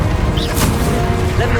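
Bombarda blasting spell cast in Hogwarts Legacy, a loud dense burst of crashing, rumbling game effects with a sharp whoosh mid-clip, layered under busy battle sound and a voice.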